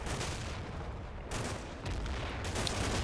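Infantry small-arms fire in the war game Combat Mission: Black Sea, a dense, distant rattle of rifle and machine-gun fire rolling continuously in a snowy battle, with no voices.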